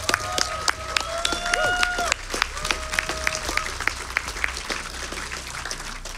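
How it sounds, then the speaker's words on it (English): Audience at a speedrun marathon event applauds and claps steadily, a dense crowd sound with scattered sharp claps, while a voice speaks over the start. "One more round of applause for him."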